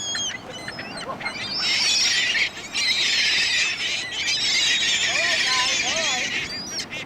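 Many gulls squawk and squeal loudly overhead in a noisy flock at Stanley Park, calls overlapping continuously, with a voice briefly audible beneath them.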